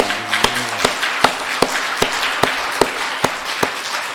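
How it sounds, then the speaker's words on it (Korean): Sparse, slow hand claps in a church congregation, roughly ten distinct claps spaced evenly at a steady beat over a faint room hum, with a brief tonal sound near the start. "우리 박수합시다."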